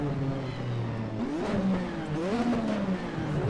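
A 1986 Lotus 98T Formula 1 turbo car in Assetto Corsa on the Imola circuit revs steadily, its engine note rising and falling in pitch through the gears, loud and continuous.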